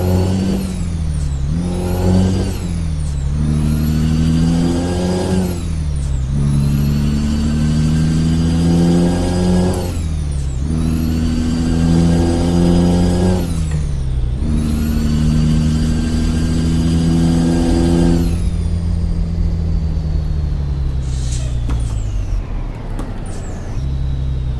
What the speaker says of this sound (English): I can hear that whine of the motor